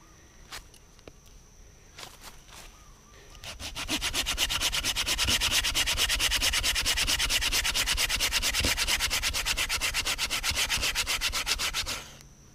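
A Bahco Laplander hand saw cuts through hardwood in quick, steady back-and-forth strokes, a close rasping rhythm that starts after a few scattered taps and runs evenly until it stops abruptly.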